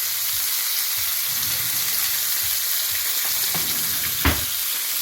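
Butter sizzles and fries steadily in a hot pan with mackerel, a dense continuous crackle with faint stirring clatter and a brief clink near the end, close and without talk.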